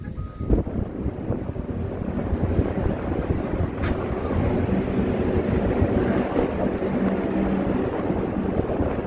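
Strong sea wind buffets the microphone on Udo island off Jeju, a continuous loud roar with rumbling gusts and a faint wash of waves underneath throughout.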